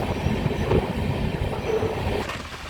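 An Indian Railways train running through Jharkhand in the monsoon, heard from on board as a loud, continuous low rumble with faint rhythmic clatter and a squeal near the end.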